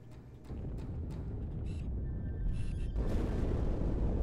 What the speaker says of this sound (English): That explosion came from inside the Athens, same as the Malta